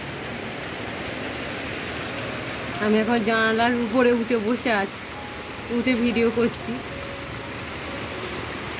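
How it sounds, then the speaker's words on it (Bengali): Heavy midday rain pours steadily outside a window as a constant, dense hiss, while someone speaks over it in two short stretches. "এই খুব জোরে বৃষ্টি এসেছে, খুব জোরে।"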